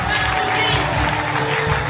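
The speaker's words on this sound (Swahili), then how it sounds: "Makofi kwa Yesu tena." A steady roar of hands fills a church as the congregation keeps applauding for Jesus, with voices talking and calling out over the dense clapping.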